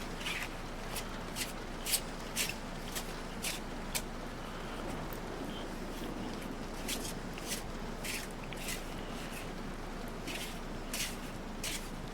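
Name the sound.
shuffling tarot cards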